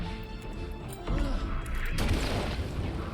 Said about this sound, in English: Oh, flashbang time.